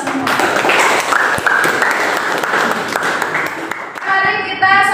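Classroom applause fills a school lesson setting as students clap over a dense crowd of voices, a sustained loud patter that fades near the end before a voice rises.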